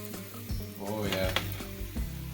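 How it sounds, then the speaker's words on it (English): Harissa-spiced cauliflower steaks sizzle and crackle steadily in a hot pan, a close continuous frying hiss with a faint clink of pans, while a person talks over it. "Nice sizzle going on."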